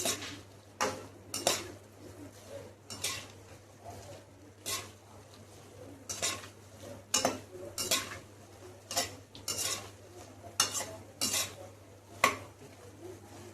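Fox nuts (makhana) fry in a pan while a spoon stirs them, giving irregular scraping strokes and clinks against the metal through the whole stretch, over a faint steady hum.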